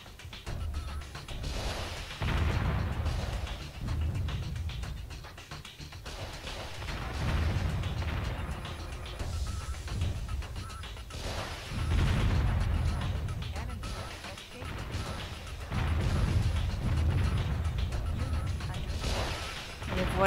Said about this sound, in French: Et voilà l'artillerie qui fait chier.